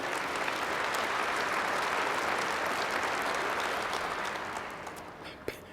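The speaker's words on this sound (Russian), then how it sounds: "присоединяюсь к вашим аплодисментам" An audience applauds during Putin's 2024 address, sustained thick clapping from a large hall that holds steady and then fades toward the end, with no speech over it.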